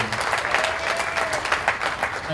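Wedding guests break into a steady, dense round of applause for the couple's parents, a full crowd clapping continuously at moderate volume.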